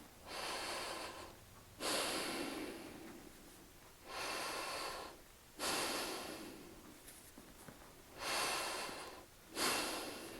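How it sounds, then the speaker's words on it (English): Slow, deep diaphragmatic breaths drawn through the nose, close and clear in a quiet room: about six long airy inhales and exhales follow one another in an even rhythm, separated by brief pauses. "You're doing deep diaphragmatic breathing"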